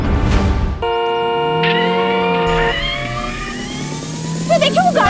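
A car engine drives and revs loudly amid sustained, siren-like tonal sounds that bend in pitch. Voices come and go over it.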